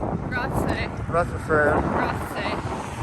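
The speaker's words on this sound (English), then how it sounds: "Hopefully some of these buildings and trees will cut some of that wind." Wind gusts buffet the microphone in a steady, rumbling roar while walking through the small town of Rothsay on a long-distance trail hike, loud and close throughout.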